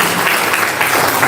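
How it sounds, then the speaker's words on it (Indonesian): Lively audience applause at a talk show, a short dense burst of many hands clapping close and loud. "tepuk tangan dulu yang meriah ya"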